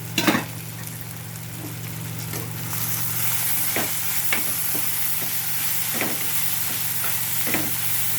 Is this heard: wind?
no